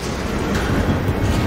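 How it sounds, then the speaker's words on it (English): A fast-moving train in the video game Assassin's Creed Unity rumbles steadily and loudly close by, a dense continuous roar with faint rhythmic rattling and no pauses. "There's a fast moving train behind me."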